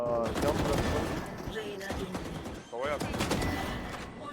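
Rapid gunfire in the tactical shooter Valorant during a competitive match, with dense bursts running through most of the stretch under continuous excited voice chat from players.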